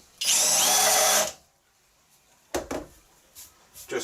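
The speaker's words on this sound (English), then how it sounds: "Basically a small countersink to suit what you're tapping." A power drill cuts a small countersink into the top of a drilled metal hole, ahead of tapping, for a tube notcher build. One loud, steady burst of about a second, then a quiet gap and a few short clunks and handling knocks.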